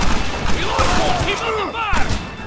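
Gunfire in the video game Red Dead Redemption: a few sharp shots crack over a short, loud stretch, mixed with shouting voices.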